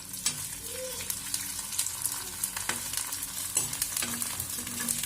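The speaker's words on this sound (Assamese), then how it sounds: "এইফালে আমি সেইদিনা বনোৱা পাপৰ ভাজিছোঁ।" Homemade papad frying in hot oil, a continuous sizzle with scraping stirs and occasional clinks, close up and without talk.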